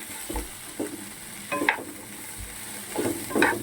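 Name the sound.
okra being added to a hot pan, frying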